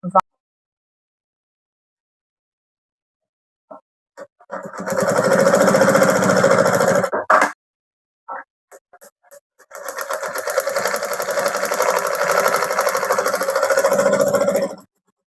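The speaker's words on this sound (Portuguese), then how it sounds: "Uma costurinha de segurança aqui para fechar essa divisória." A sewing machine stitches a security seam closing the divider of a handbag, running in two sustained close bursts of rapid mechanical stitching separated by a few short clicks and pauses, with no talk over it.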